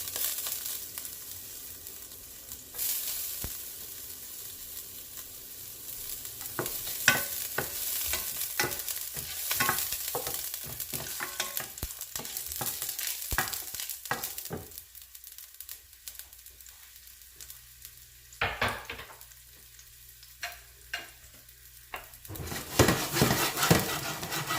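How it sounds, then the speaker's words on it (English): Garlic and chopped ginger fry in a pan with a steady sizzle, broken by sharp scrapes and clinks of stirring; the frying thins out midway, then swells loudly again near the end. "Just 1 peg of garlic, and I'm just gonna let it fry."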